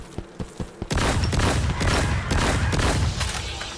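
Rapid gunfire in the video game Zero Sievert, sniper rifle shots against ghouls: a few sharp separate cracks, then a dense, loud, sustained barrage of overlapping blasts.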